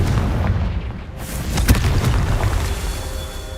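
A Confringo blasting spell cast in the Hogwarts Legacy video game lands as a single booming burst with a sharp crack at its peak, set in low ambient rumble.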